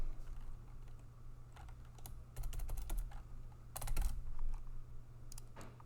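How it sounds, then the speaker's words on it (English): Steady typing on a computer keyboard while entering a product form in a web app, irregular clusters of close keystrokes with brief pauses over a constant low electrical hum. "if I start typing"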